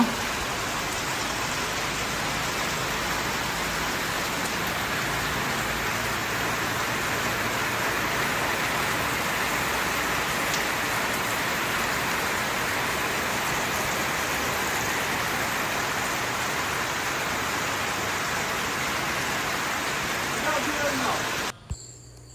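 Heavy rain pours steadily outdoors near a makeshift hearth set on a tin sheet where beef biryani is being cooked, a dense, even hiss of drops that runs unbroken for about twenty seconds before cutting off abruptly.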